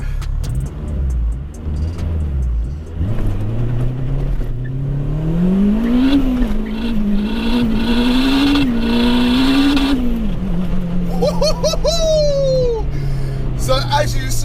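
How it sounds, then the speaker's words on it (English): A 464bhp turbocharged Honda DC5 launching hard from a standstill for a 0-60 run without traction control, wheels spinning. Its engine roars loud and close, pitch climbing and holding through the pull before easing off, with a high whine near the end. "we are lining up for our 0 to 60. As I say, no traction control, so it's all on me"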